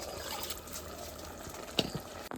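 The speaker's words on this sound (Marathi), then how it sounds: "या साईडला जे गरम पाणी आहे ना ते टाकू." Hot water is poured into a pot of prawn rice with a soft trickling, splashing sound, then a sharp clunk near the end.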